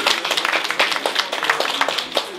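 An audience applauds at a public event with a transport minister in Ústí nad Orlicí, a dense, steady patter of many hands clapping throughout without a break.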